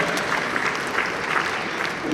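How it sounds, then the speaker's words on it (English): Applause from a conference audience at a scientific conference and annual general meeting in Port Harcourt, a steady dense clapping that fills the whole stretch at moderate level, with faint voices mixed in. "Please, a round of applause for them."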